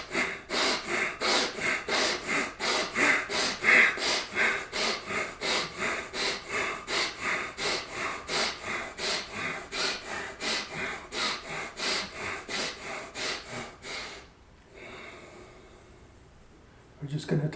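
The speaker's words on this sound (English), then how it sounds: "you're breathing with your abdomen through your nose, and you do make noise" Rapid, forceful nasal breathing driven from the abdomen, a fast regular series of loud, close sniffing exhalations for about fourteen seconds, then quieter breaths.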